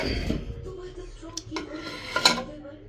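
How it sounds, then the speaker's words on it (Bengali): Khichdi being stirred in a cooking pot, with a few scraping and clinking knocks of a metal spoon against the pot, brief and close, amid quiet kitchen background. "এখানে হচ্ছে খিচুড়ি দাঁড়া একটু নাড়িয়ে দিই খিচুড়ি একটু নাড়িয়ে দেখি"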